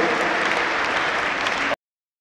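A congregation at a Christian conference in Mali claps in dense, steady applause for under two seconds before it cuts off abruptly.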